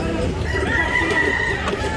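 A chicken or rooster gives a drawn-out call over a dense background of crowd noise at a pre-dawn market in Carbon, Cebu.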